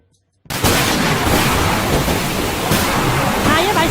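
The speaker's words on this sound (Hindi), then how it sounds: "भाई साहब, बाहर बहुत तेज बारिश हो रहा है।" Heavy rain bursts in suddenly after a brief silence and continues as a loud, dense, steady roar of hiss and patter close at hand.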